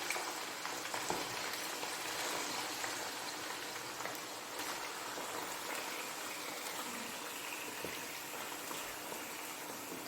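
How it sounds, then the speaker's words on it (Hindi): Steady, dense sizzling and crackling of mutton frying in hot oil, continuous and fairly close, with no talking. "पहले मैं इसको अच्छी तरह ऑयल में भूनूंगी।"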